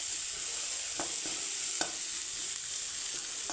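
Desi corn roasting in a pan gives a soft continuous sizzle with a few faint pops and stirring scrapes, close and steady with no talking.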